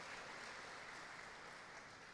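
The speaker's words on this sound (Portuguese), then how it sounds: "Alguém pode dar uma salva de palmas para Jesus por isso?" Church congregation applauding during a worship service, a steady dense wash of clapping that holds evenly for about two seconds at a moderate, fairly distant level.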